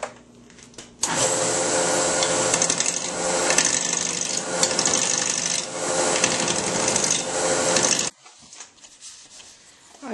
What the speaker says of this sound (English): I've mounted it between centers and I'm going to now start to turn.